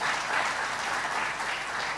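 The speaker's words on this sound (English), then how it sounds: "Please join me hands in again clapping for the executive secretary and thanking him." An audience applauds the IGAD executive secretary at a regional address, a dense steady wash of many hands clapping continuously, moderately loud and unbroken.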